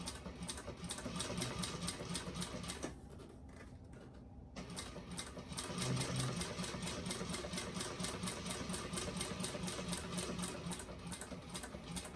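A sewing machine runs steadily through slow top stitching on a handmade bag, its rapid needle clatter broken by a brief pause partway through before resuming at an even pace, with no talking.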